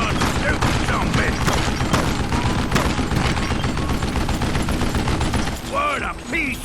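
Gunfire in Call of Juarez: Gunslinger rings out as a dense fusillade of close, loud shots that crack steadily one after another, with shouting voices mixed in near the end.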